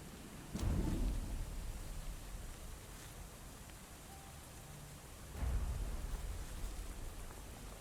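A thunderstorm in the video game Of Ash and Steel brings steady heavy rain, broken by two deep rumbling thunderclaps, one near the start and one later.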